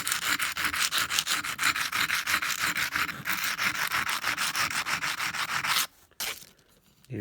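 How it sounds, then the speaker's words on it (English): Steady rhythmic rubbing of sandpaper by hand against a hard stone edge such as quartzite, quick back-and-forth strokes close up, stopping abruptly near the end. "a little hand sanding of stone"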